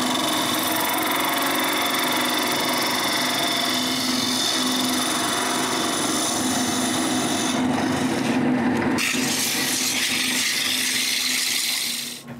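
Steady abrasive rasping of sandpaper against a turned wooden nutcracker hat, held by its mortise after the tenon is removed, continuous and close for about twelve seconds with a brief shift in texture near the end.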